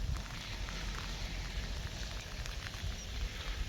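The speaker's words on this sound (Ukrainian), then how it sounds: "Ось такий от красень, крапає дощик." Light rain patters steadily in a peach orchard in August, a dense soft hiss of drops on leaves, even and close throughout with no talking.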